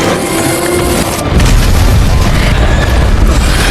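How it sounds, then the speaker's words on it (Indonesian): A gasoline barrel blows up in a film scene, a loud deep boom that surges into a sustained rumbling roar filling the whole clip. "Lalu menyalakan bensin yang mengalir dari tong itu, meledakkan dirinya sendiri beserta para zombie."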